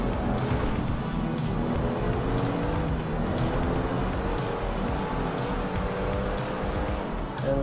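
A car in the video game GTA pulls away from a green light onto the road, its engine loud and continuous with rising revs and steady droning throughout, no talking.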